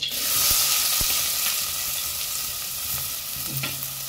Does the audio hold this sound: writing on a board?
no